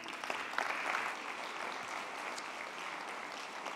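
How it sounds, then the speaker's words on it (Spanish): An audience at a smart and sustainable mobility awards ceremony claps steadily for a few seconds, moderately loud and even, with no talking. "Un aplauso."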